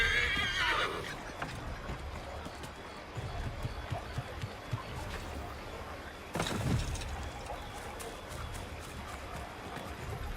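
In the video game Assassin's Creed III, a horse lets out a shrill whinny at the start while hooves clip-clop steadily underneath, with another burst of movement later; no one speaks.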